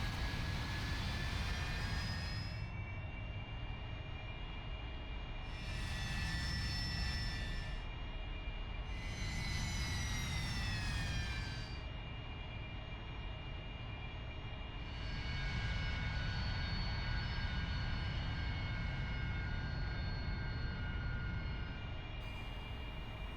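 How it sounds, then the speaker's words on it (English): AV-8B Harrier jet engine in a flight simulator game drones continuously with a deep, steady roar, while a high whine rises and falls in several long swells over the rumble. "Sidekick here in my AV8B Harrier. Give me a sec, we're just about to get underway."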